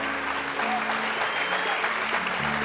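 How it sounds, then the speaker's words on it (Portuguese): Sustained applause from a church congregation, a dense continuous clapping wash with a faint voice or tone underneath. "Aplauda o Senhor Jesus."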